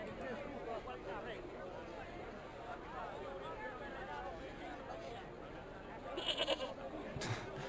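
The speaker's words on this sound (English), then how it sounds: "Hello, goat." A goat bleats in the video game Broken Sword II: The Smoking Mirror, quiet and wavering beneath a low murmur of background chatter and game ambience, with a brief brighter burst near the end.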